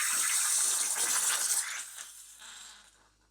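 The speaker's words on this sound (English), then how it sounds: "Note how the tip of the wand is still mostly below the surface." A DeLonghi Dedica espresso machine's steam wand froths milk with its tip held just below the surface, giving a loud, steady hissing rush that gradually softens and fades toward the end, with no talking.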